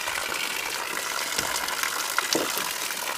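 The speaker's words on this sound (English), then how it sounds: "You can hear the water falling down in there." Water trickling and splashing down into a partly frozen tank at an off-grid cabin, a steady broadband rushing with small bright drips and gurgles throughout, moderately close and without any talk.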